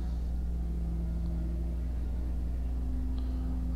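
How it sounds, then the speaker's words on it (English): Loud, steady low rumble of a heavy truck engine passing on a road in Skyrim, a constant droning growl with no talk over it. "Loud truck on the road"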